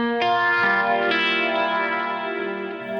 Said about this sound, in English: Quite a few delay repeats.